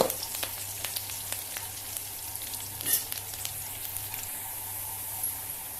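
Chopped onion and tomato fry steadily in a hot pan for South Indian sambar, a continuous close sizzle with small crackles and spatters throughout and no talking.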